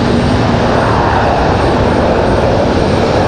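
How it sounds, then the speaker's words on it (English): An Airbus A319 airliner departing Raleigh-Durham International, a loud, close, sustained engine roar with dense broadband rumble that stays level for the whole few seconds, no voices. "The departure of this A319."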